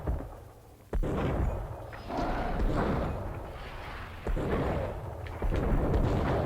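Gunfire in the Max Payne video game: a few heavy, booming shots cut in sharply over dense, rumbling in-game background noise, spaced a second or more apart.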